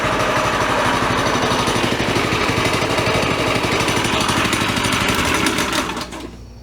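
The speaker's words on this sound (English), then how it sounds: "I didn't expect it to start on the first pull." A Briggs and Stratton small engine on a homemade buckboard flyer runs steadily and loudly just after starting, a dense rapid chugging drone that holds even, then drops off sharply in the final moments.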